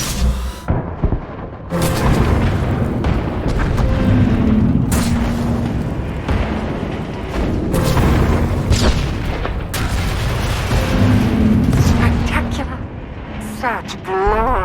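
Deep rumbling booms and a long sustained explosion roar after the failsafe is fired in Star Wars: The Old Republic, building into loud, rolling blasts with overlapping crackles, while characters talk over parts of it.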